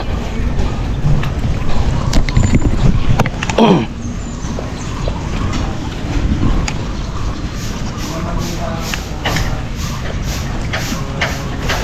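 A motorized tricycle ride in the Philippines, with loud, constant engine rumble and wind buffeting throughout and a rough bump partway.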